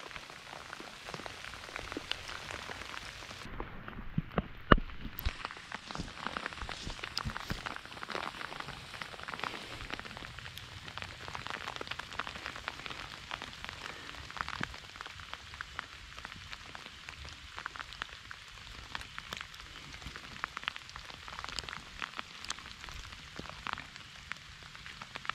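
Rain falls in the woods during a turkey hunt, a steady soft patter of drops on leaves and surfaces, continuous and quiet with a few louder nearby drips and no talking.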